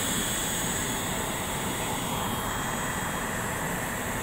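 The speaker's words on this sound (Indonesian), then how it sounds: "Ini yang suara dari pesawat yaitu suara YPU, suara APU" An aircraft auxiliary power unit runs on a Garuda Indonesia airliner, a steady loud whine and roar with a high tonal hiss held constant throughout, close by and unbroken, with no talking.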